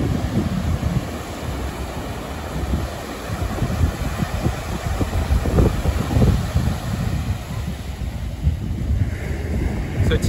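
Beach ambience at Manzanillo, Colima: continuous wind buffeting the microphone over a steady wash of ocean surf, loud and unbroken with no voices.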